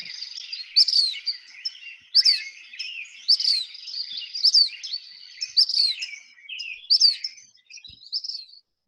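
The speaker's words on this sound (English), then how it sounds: "That's just one making all that noise, and it kind of sounds like if you said it, Phoebe, Phoebe, Phoebe." A recording of a single black phoebe repeats its high, raspy two-part call about seven times in fairly regular succession against an otherwise quiet background.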